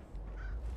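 A crow caws once in the Fallout 4 video game, a short, moderately loud call over a steady low background hum, with no talk.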